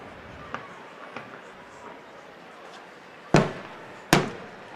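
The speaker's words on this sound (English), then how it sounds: "As the fireworks continue to just explode" Fireworks bursting over a baseball game, two loud sharp booms near the end following a few faint distant pops, set against steady crowd and stadium ambience.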